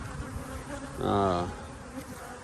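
Honeybees at hives recently treated with VarroxSan strips buzz, and one bee passes close in a brief, rising-then-falling drone over a softer steady hum of the colony.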